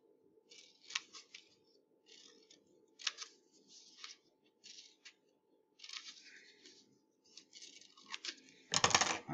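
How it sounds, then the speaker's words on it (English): Scissors snip along lines in paper for a pinhole camera, a series of close, crisp crunchy cuts in short bursts with brief pauses, ending in a louder rustle of handled paper; no talking. "I'm then going to cut along those lines that go from the large circle to the smaller circle."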